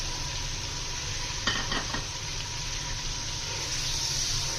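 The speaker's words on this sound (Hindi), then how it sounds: "चिकन को हमने 4 मिनट इसके अंदर हमने लहसुन के साथ इसको फ्राई करना है" Steady sizzle of chicken frying with garlic in hot oil, with a brief burst of stirring and clinking partway through.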